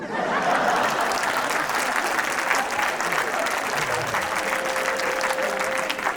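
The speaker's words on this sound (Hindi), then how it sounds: "अगर ताली इतनी ही कमजोर रही तो हमारे खेतों में भी लगेगी भाई साहब" Steady audience applause at a Hindi comedy poetry show, a dense continuous patter of many hands clapping at an even level throughout.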